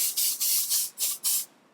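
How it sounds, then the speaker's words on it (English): Hairspray hisses from an aerosol can onto hair in five or six short, bright bursts with brief gaps between them, close and fairly loud, with no talking. "every now and again I will spray"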